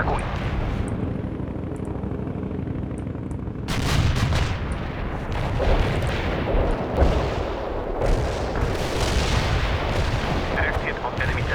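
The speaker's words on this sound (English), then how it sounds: "We can deploy and lay down a heavy barrage." A dense, rumbling artillery barrage in the strategy game World in Conflict, continuous booms and blasts piling on one another, sharply growing louder partway through and staying heavy to the end.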